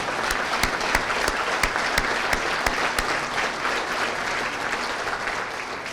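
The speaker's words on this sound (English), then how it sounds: "So those applause are well deserved for all of those folks." A dinner audience at the Rend Lake College Foundation annual dinner applauds the foundation board of directors, a steady wash of clapping hands at moderate distance that holds evenly throughout.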